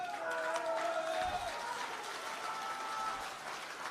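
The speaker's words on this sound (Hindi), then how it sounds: "कितनी तालियां बज सकती है इस नाम के लिए" An audience at an outdoor political rally pavilion claps steadily in dense, continuous applause, loud and sustained throughout with a faint crowd murmur and no clear speech.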